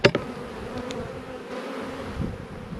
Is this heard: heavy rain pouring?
no